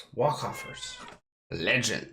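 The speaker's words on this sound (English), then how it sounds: "I don't know if you can hear my cat, but, you know, she's been meowing all day." A pet cat meows up close, two drawn-out meows split by a short silence, loud and nasal.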